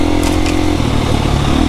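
A 2025 KTM EXC-F four-stroke trail motorcycle revs while being ridden in snow. The engine note is loud, close and continuous, rising and falling briefly over under two seconds, and there is no talking.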